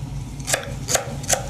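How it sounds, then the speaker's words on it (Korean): A kitchen knife slices food into thin julienne strips while preparing a Korean royal court cold platter, giving three crisp, evenly spaced cuts against the board, close and clear over a low background hum. "이렇게 채를 씁니다."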